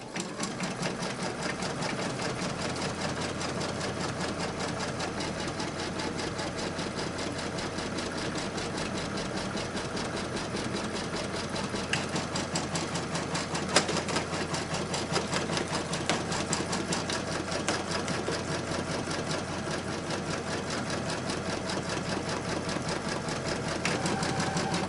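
An embroidery machine runs a basting stitch through taped fabric, giving a steady, fast mechanical whir with a rapid needle rhythm that holds close and even for the whole stretch, with no talking.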